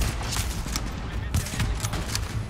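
Gunfire in The Division rattles in quick, dense bursts of shots over a constant roar of battle, loud and close, with a voice talking underneath.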